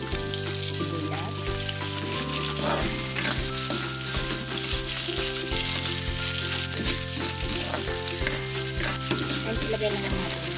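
Chopped onions sizzle and fry steadily in a hot pan while being stirred, a continuous close crackling hiss with occasional scraping, no talking.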